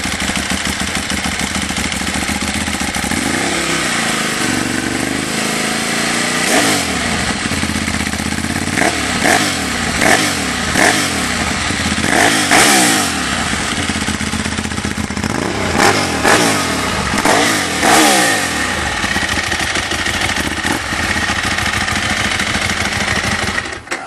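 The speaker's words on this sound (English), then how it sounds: "here is the 1098S Ducati." Ducati 1098S sport motorcycle engine running loud and close, with repeated throttle blips and revs rising and falling over a steady idle, no talking.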